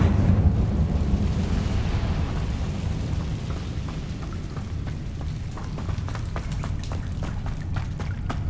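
Confringo fire-blast spell cast in the video game Hogwarts Legacy, a sustained roaring, crackling burst that stays loud throughout, with scattered sharp crackles toward the end.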